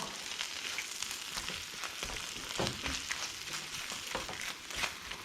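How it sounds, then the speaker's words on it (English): Two heaped teaspoons of tomato puree cook in a hot pan for prawn pasta, giving a faint, steady crackling sizzle with light spattering pops throughout and no talking. "touch of tomato puree. So 2 heaped teaspoons of tomato puree. Get that in there, let's get the heat up just a touch. Cook that out."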